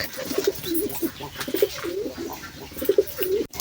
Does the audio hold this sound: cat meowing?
no